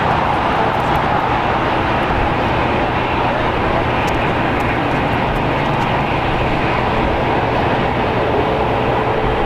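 An Atlas Air Boeing 747-400 freighter, 26 years old, taking off from runway 25 right at LAX, its engines a loud, continuous broadband roar that stays full and steady throughout.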